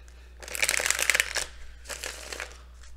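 Tarot cards are shuffled in two short bursts, a crisp, flapping riffle up close followed by a softer second pass.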